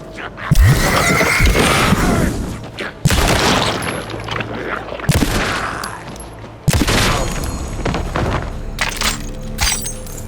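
Gunfire in the video game Alan Wake II: several sharp, loud shots with crashing, shattering impacts spread across the stretch, over a busy game soundscape.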